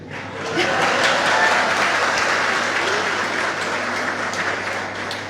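Sustained applause from a large audience at a talk in a library hall, dense and even, swelling in quickly and continuing for several seconds without speech.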